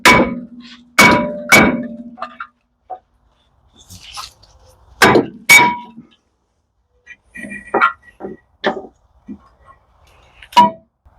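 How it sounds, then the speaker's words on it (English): Sharp metallic hammer strikes on a Saab car part while removing a shock absorber, landing in scattered loud blows with pauses between, close and without talk. "I just need to take the hammer."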